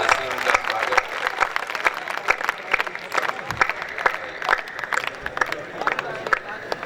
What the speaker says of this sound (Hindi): जोरदार तालियां बजा करके मुमताज वसीम का स्वागत।